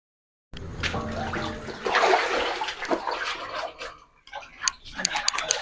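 Flood water runs along a street in Kayalpattinam, a steady broad rush that holds loud for several seconds, then dips and returns with splashy bursts.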